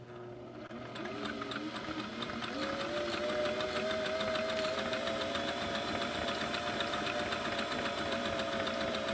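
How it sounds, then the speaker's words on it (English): A vintage sewing machine stitching a single line on cotton, its motor whirring up after a brief start and then running steadily with a fast, even needle clatter close by, with no voices. "But I'm going to go ahead and sew one line."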